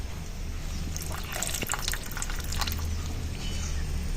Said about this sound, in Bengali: এবার দিয়ে দেবো তেঁতুল জল